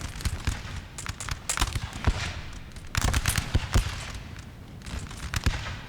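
Musket volleys crackle in Napoleon: Total War, with repeated sharp, overlapping shots in ragged clusters, some close and loud, others more distant, over a low battlefield rumble.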